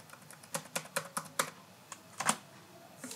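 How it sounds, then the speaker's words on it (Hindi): Quick, uneven run of keystrokes on a computer keyboard as a password is typed, about a dozen close, light clicks with short pauses, alone with no talking. "यहाँ पर मैं डालता हूँ इसके पासवर्ड।"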